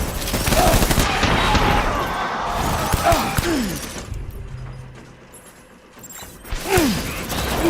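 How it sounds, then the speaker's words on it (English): Heavy gunfire and crashing impacts in the game Death Stranding, dense loud bursts with whooshing sweeps, easing to a quieter lull before another sharp volley. "Who's shooting me from behind?"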